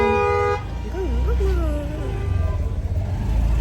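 Road traffic on a drive from Delhi toward Mukteshwar, with a loud car horn tooting near the start, then wavering horn sounds over a steady engine rumble and a voice talking.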